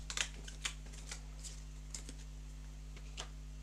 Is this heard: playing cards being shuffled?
yes